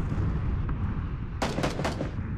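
A quick string of three or four gunshots in an online shooter video game cracks out over a continuous low rumble of ambient game noise, fairly sharp but moderately distant.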